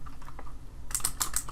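Someone types on a computer keyboard during an economics software tutorial, a quick run of light key clicks that grows busier and louder toward the end, with no talk.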